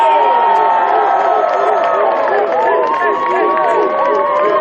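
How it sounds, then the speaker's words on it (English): A crowd at an African Australian Football Association grand final cheers and whoops loudly for the 2023 Multicultural World Cup champions, Team Brazil, with shouting voices and celebratory yells filling the air continuously. "can you please give a big round of applause for the 2023 Multicultural World Cup champions, Team Brazil"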